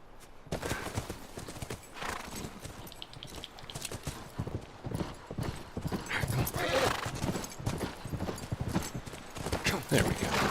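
Video game horse hooves clop rapidly in a galloping rhythm, with a horse whinnying and some background voices mixed in.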